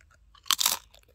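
A single loud, crisp crunch of crispy food being bitten and chewed up close, lasting under half a second with near silence around it.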